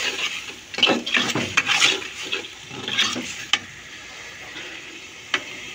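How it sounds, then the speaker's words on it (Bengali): Small shrimp sauté in a pan, with a soft frying hiss and irregular bursts of stirring and utensil scrapes against the metal, close and fairly quiet, a few sharp clicks near the end. "এবার আমি ইসা মাছগুলো কষিয়ে ফেলবো।"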